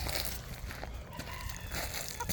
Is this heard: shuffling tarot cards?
no